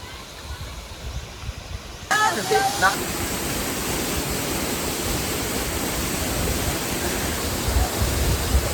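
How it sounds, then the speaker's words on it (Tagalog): A small waterfall, Panindingan Falls, pours with a steady rushing hiss that grows louder and fuller partway through, and a brief voice speaks over the water. "Ang liit lang ng falls. Sobrang liit lang."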